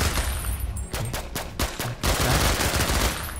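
Rapid bursts of automatic gunfire in Minecraft crackle in quick succession, loud and sharp, followed by a continuous dense stream of shots.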